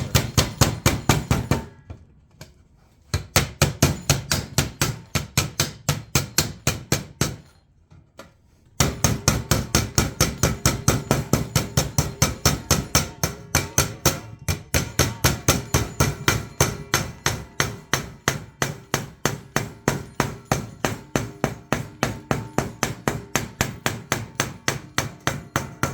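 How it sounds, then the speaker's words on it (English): A hammer repeatedly beats over an HVAC sheet metal seam on a fitting, producing rapid, regular metallic blows in long runs with two brief pauses, loud and close with no talk. "all you're going to do is take your hammer and you're going to beat that over."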